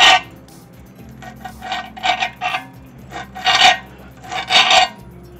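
A tight bunch of fresh mint leaves is cut with a blade, giving several short crisp snipping and rasping strokes in irregular bursts, close and fairly loud, with no talking.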